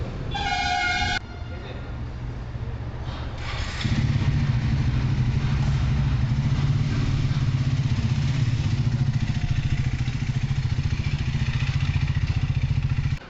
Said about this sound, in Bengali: নাজিম এখন তার নিজের বাইকে একদম উঠে গেছে, এখন ওর নিজেরই বাইক হয়ে গেছে এখন।